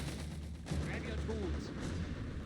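Gunfire from FG-42 and Lee Enfield rifles in the Company of Heroes 3 video game, with low booming shots and rumbling battle noise filling the background. A voice speaks over it.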